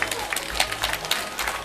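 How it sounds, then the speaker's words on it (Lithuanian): A crowd claps at a knight tournament fight, with rapid, moderately loud applause running throughout the short stretch. "Plojimai, publika, plojimai."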